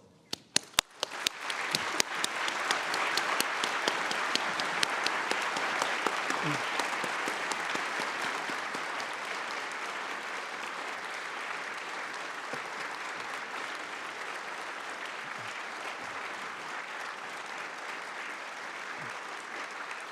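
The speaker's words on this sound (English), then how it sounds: "please welcome the speakers to the stage with applause" Audience applause welcoming speakers to the stage at an education and science talk, steady dense clapping that swells quickly and sustains for twenty seconds, full and close.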